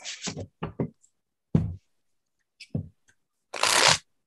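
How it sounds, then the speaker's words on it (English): Playing cards being shuffled by hand during a game session, heard as a series of quick, crisp riffle bursts and taps, ending in one longer, louder riffle, with no talk. "I'm going to put myself on mute while I shuffle."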